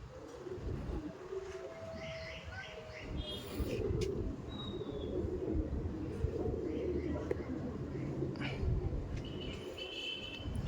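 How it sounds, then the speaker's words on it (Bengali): Pigeons of a prized eye-quality breed coo softly and repeatedly close by, with low rumbling background noise throughout. "আরেকবার পায়রা দুটো দেখিয়ে রাখি, এই যে।"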